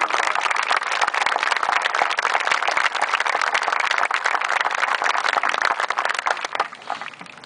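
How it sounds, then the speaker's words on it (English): An audience at an airborne graduation ceremony applauds steadily, a dense, loud wash of many hands clapping that holds for several seconds before thinning out at the end. "Please join me in a round of applause."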